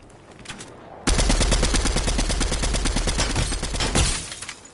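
Rapid automatic gunfire from the video game Fortnite bursts in after a second of quieter background, firing as a loud, dense, continuous volley of close shots for about three seconds before tapering off.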